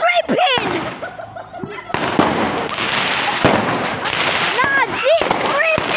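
Fireworks going off in a residential neighborhood, with loud sharp bangs and crackling bursts repeating throughout amid whistling rises, while people shout and yell excitedly over the blasts.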